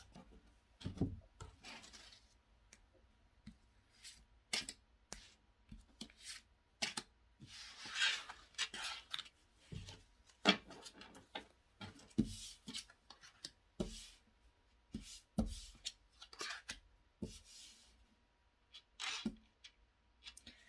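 Tarot cards are shuffled and drawn at close range, giving quiet, irregular papery riffles, slides and soft taps with short pauses between them and no voices.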